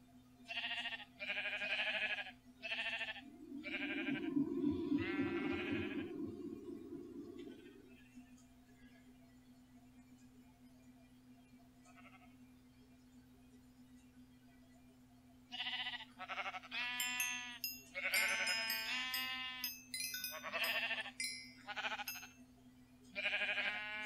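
Sheep bleat in a quick series of bleats in the video game Minecraft Sky Factory 3, with a steady electronic hum underneath, and a voice talks before and after.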